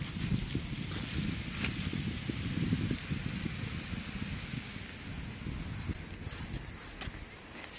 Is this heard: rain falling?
yes